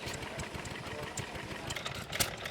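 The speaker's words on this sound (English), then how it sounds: "This is a lovely little engine." A small Bradford hit and miss stationary engine from Chalmers Agnia Co. runs steadily at an outdoor show, its quick irregular chuffing beats close by, mixed with general background noise and no clear talk.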